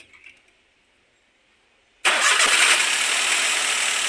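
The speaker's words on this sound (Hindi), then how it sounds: "चलिए गाड़ी स्टार्ट करो।" A car engine with a misfiring cylinder cranks and catches abruptly after a quiet pause, then settles into a loud, steady idle close by.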